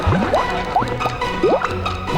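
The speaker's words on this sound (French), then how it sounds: "Des bulles." Cartoon bubbles popping and bloopy liquid sounds in a children's superhero sitcom scene, several quick rising watery blips spread over a couple of seconds, fairly close and clear with no talk.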